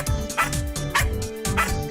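A young puppy barks three times in quick succession, short yappy woofs spaced evenly and heard close up.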